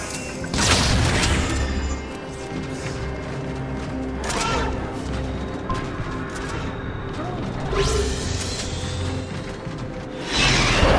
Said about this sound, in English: Firing grenade!